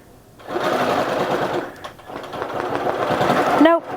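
A home sewing machine runs steadily, stitching at a fast continuous whir for about three seconds, with a short pause midway and an abrupt stop at the end.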